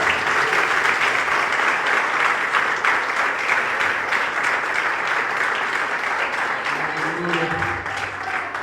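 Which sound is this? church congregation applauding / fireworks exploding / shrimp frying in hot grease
church congregation applauding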